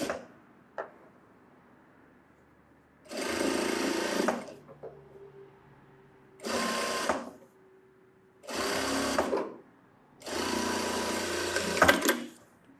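A sewing machine stitches a V shape on a front cup of a garment, running in four separate bursts of rapid mechanical chatter with quiet pauses between them.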